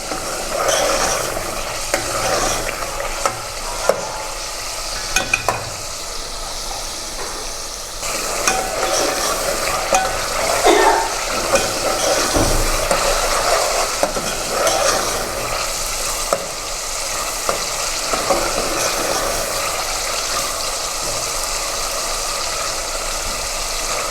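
Beef is browned in oil in a pot for a cauliflower and beef curry, giving a loud, continuous sizzle close by, broken now and then by stirring scrapes and clinks, with no voices.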